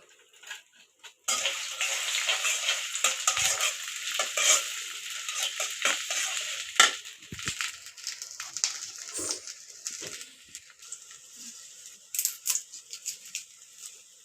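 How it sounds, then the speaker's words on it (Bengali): Chopped onion stirred in hot white oil in a pan, a close sizzling hiss with scraping and clinking of the spatula against the pan, tapering off with scattered taps. "পেঁয়াজ কুচি দিয়ে দিব দিয়ে নাড়াচাড়া করে নেব"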